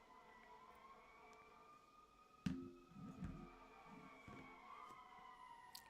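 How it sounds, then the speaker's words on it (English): Emergency vehicle sirens wail faintly from outside, a steady rising and falling tone in the distance, with a few louder thumps and knocks nearby partway through. "And more sirens."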